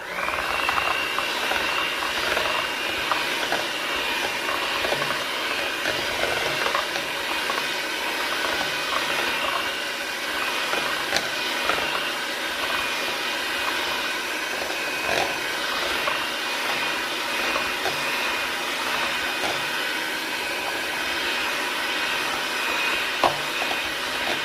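An electric mixer whirs steadily while egg yolks are slowly added to Japanese cheesecake batter, a continuous close hiss-like hum with slight fluctuations and no pauses throughout.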